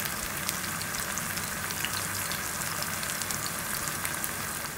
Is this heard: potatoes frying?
yes